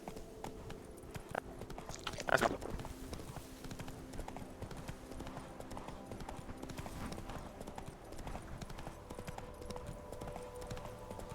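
Horse hooves clip-clop steadily in the Witcher 3 video game, a quiet rhythmic trot continuing throughout, with a brief louder thud early on and faint game ambience underneath.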